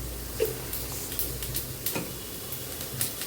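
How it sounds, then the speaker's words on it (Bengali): Whole cumin seeds tossed into a pan of fried potatoes make a low, soft sizzle with faint stirring scrapes and light taps, fairly quiet and without speech. "আলু ভাজির মধ্যে দিয়ে দিচ্ছি ফোড়ন, একটু জিরা, গোটা জিরা"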